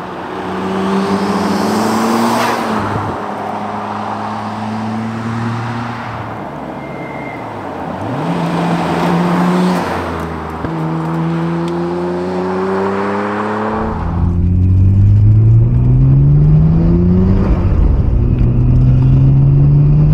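A Nissan Skyline R34 GT-R V Spec engine pulls through gears while driving, its loud, close note climbing in repeated revving sweeps, then turning deeper and stronger in the final stretch, with no talking.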